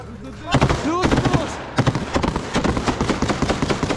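Grenade blasts and rifle gunfire in trench combat crack out in sharp, close bursts, with several loud reports in the first two seconds followed by a steady run of rapid shots.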